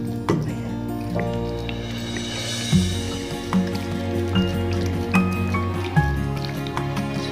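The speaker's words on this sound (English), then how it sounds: "Lagyan na natin siya ng vinegar." Vinegar poured over raw anchovies for kinilaw, with liquid splashing and trickling amid wet squishing and clinks in a kitchen, irregular and close, over a low background hum.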